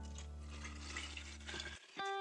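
Drinking water pours onto lemon juice and stevia leaves for homemade lemonade, a short close gurgling trickle that stops abruptly, followed by a brief faint clink.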